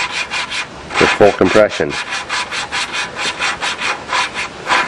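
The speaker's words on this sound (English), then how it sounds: "So that's how you lap and seat a valve" A lawnmower engine valve being lapped into its seat with grinding compound, giving steady rhythmic back-and-forth rubbing strokes, close and fairly loud, with a brief voice near the start.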